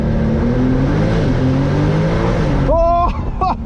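A Brabus-tuned Porsche 911 Turbo S rated at 820 hp holds a loud, deep, sustained engine drone close by, then the note cuts and a voice breaks in over a rougher burble.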